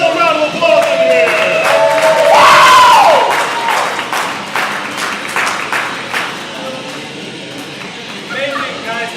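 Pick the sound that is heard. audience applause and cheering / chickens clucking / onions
audience applause and cheering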